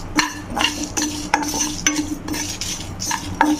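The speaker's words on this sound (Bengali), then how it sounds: "কম আঁচে ভালো করে ভেজে নিতে হবে, যাতে ইয়েগুলো পুড়ে না যায়, মশলাগুলো।" Nigella seeds and a few dried red chillies dry-roasted over low heat in a pan for mango pickle spice, heard as a close series of scraping stirs and clinks of a spoon against the pan, with no one talking.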